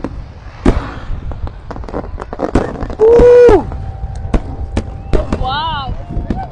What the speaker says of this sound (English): It's fireworks though.